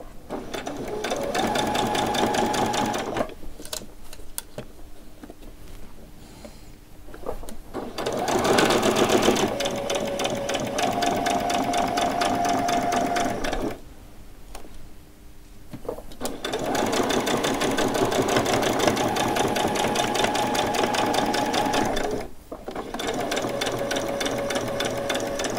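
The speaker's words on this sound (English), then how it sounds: "if I carried on sewing, obviously I'd stitch to that" A domestic sewing machine stitches fabric for a frilled top, whirring steadily in several long runs separated by brief pauses, with faint talk in the background.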